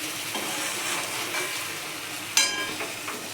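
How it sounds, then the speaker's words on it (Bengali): Paneer cubes fry in spiced oil that has separated from the masala, a gentle continuous sizzle broken by soft stirring scrapes and one sharper clink of the spoon, with no speech. "পনিরগুলো আমি দিয়ে দিলাম, ভালো করে নাড়বো হালকা হালকা করে"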